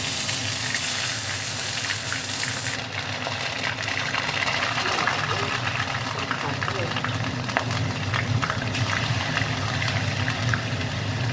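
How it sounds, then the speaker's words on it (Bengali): Bhola fish frying in hot oil in a pan, producing a continuous close sizzle and crackle that holds steady at moderate loudness, with a voice speaking over it. "এখানে মাছগুলো ছেড়ে দিচ্ছি।"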